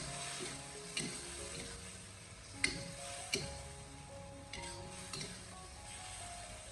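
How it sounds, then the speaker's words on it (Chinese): Pork belly and velvet antler mushrooms are stir-fried in a wok with a starch slurry, giving a steady close sizzle broken by a few sharp scrapes and clacks of the spatula, with no talk. "水淀粉下锅以后，迅速的用锅铲将其翻炒均匀"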